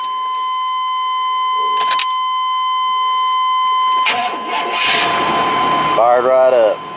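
A 1997 Chevy engine cranks and fires up after a fuel pump replacement, the start arriving about two-thirds through over a steady electronic tone and some clatter, with the engine settling in loudly near the end.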